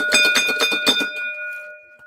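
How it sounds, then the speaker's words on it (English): A bell rings out in about half a dozen quick, bright strikes, then a clear metallic tone lingers and fades away on its own. "It's still early enough in the evening where I'm not going to get in trouble for ringing the bell."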